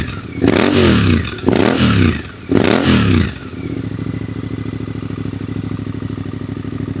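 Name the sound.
Suzuki GSX 8R motorcycle exhaust revving, straight-through baffle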